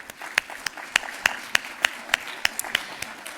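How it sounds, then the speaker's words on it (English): Sparse, rhythmic hand claps from a conference audience welcoming panelists to the stage, a few distinct claps at regular intervals over a quiet room. "Please give them a warm round of applause."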